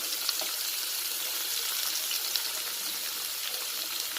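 Chopped onions and green chillies frying for upma, a steady close hiss of sizzling oil running evenly throughout with a few faint crackles.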